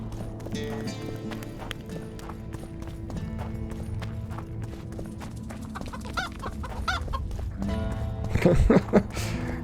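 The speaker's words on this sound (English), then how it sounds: "Those perfectly rhythmically timed chickens." Chickens cluck repeatedly in the video game The Witcher 2, a steady rhythmic stream of clucks layered over busy game ambience with a horse-like clopping; the clucking grows louder near the end.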